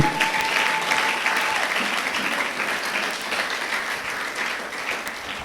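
A church congregation applauds for Jesus, dense sustained clapping from many hands filling the room, steady and fairly loud throughout, slowly easing off toward the end.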